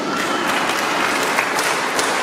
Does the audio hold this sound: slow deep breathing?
no